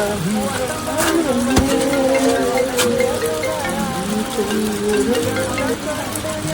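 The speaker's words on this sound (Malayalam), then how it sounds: "ആഹാ, നല്ല മഴയാണല്ലോ, നല്ല മൂട് കാലാവസ്ഥ" Steady rain falls in moody weather, a dense, continuous hiss with scattered drops heard close and moderately loud, with a voice speaking over it.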